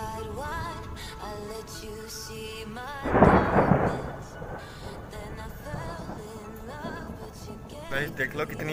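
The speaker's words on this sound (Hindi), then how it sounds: "देख लो कितनी अभी बिजली भी कड़क रही है।" Thunder during a heavy evening rainstorm, a loud rumbling crack swelling about a third of the way in over steady rain, while someone talks and music plays in the background.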